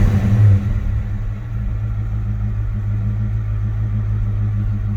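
A 1971 Pontiac GTO Judge with a factory-style Gardner exhaust idles just after a cold start. A brief louder surge at the start settles into a steady, deep, close burbling rumble from the rear, with no talking.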